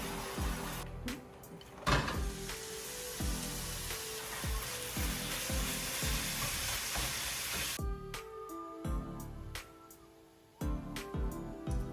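Lean ground turkey (93.7% lean) sizzles steadily in a pan, a constant frying hiss with repeated scraping stirs and a few clicks and knocks, loud and close, with no talking.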